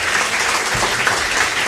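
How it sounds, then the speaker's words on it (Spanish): Audience at a panel discussion gives a strong round of applause for the panelists, dense steady clapping throughout without speech. "despidamos con un fuerte aplauso a nuestros panelistas."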